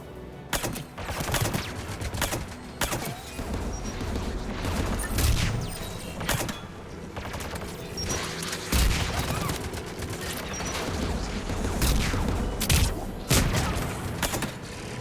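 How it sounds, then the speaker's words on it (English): Sustained barrage of anti-aircraft gunfire from a Mass Effect 3 battle, with dense rapid firing and heavy booming thumps rolling on continuously for the whole stretch, loud and close. "AA guns ahead of us."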